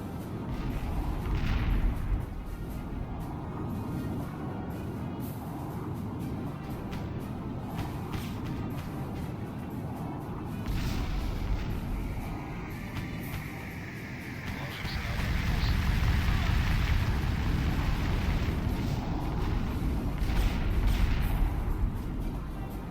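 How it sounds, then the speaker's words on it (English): Bombing raid explosions in the strategy game Cuban Missile Crisis: a continuous low, rumbling roar of distant blasts that swells louder in waves, with scattered crackles over it, no talking. "Send in another bombing raid."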